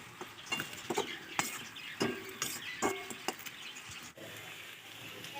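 Fried fish heads being stirred into a Bengali cabbage curry in a pan: repeated scraping and clinking strokes over a faint sizzle, close and fairly quiet, with no talking.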